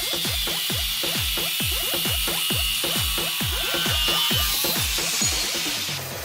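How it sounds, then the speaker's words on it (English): An angle grinder cuts aluminium, its disc lubricated with cooking oil, producing a loud, steady high whine with a fast rhythmic pulsing as the blade bites repeatedly, close and continuous with no talking. "use an angle grinder to cut aluminium"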